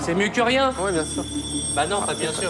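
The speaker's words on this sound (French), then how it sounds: "C'est un téléphone, ça." A telephone rings steadily in a room behind people talking back and forth, its tone held under their voices throughout.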